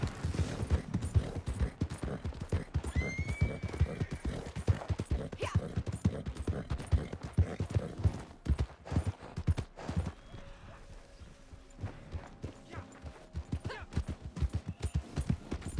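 Horse hooves clip-clop at a steady gallop in the video game Red Dead Redemption 2, close and continuous, with brief neighs and creaking tack mixed in; a quieter stretch near the end as the hoofbeats ease.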